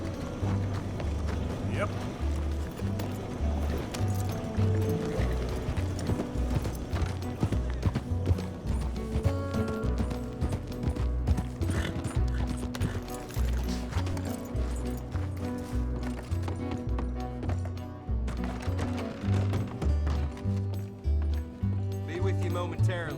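Horse hooves galloping in Red Dead Redemption 2 make a steady, rapid clip-clop drumming that runs throughout, loud and close, with game voices and a brief spoken reply over it.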